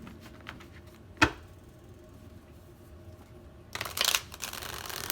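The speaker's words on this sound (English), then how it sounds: "One more shuffle." Playing cards rattle in a quick riffle shuffle, with a sharp snap early on and a longer burst of fluttering cards toward the end.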